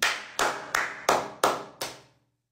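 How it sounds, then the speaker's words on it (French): Six sharp hand claps close by, evenly spaced at a slow, deliberate pace, each ringing out briefly before the next. Silence follows the last clap. "joignez-vous à moi, on va applaudir pour Tottenham et puis Liverpool"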